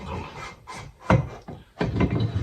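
A wooden barrel is pressed down onto locating dowels, giving a few close, short scraping and rubbing bursts of wood on wood with brief pauses between them.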